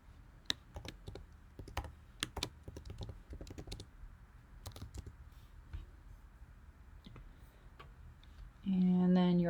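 Keystrokes on a computer keyboard entering a username, a sparse run of light clicks in uneven bursts at moderate distance, ending in a louder steady hum.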